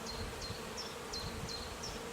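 Honey bees buzzing around a beehive, a soft steady drone from many insects, faint and distant, with no talking.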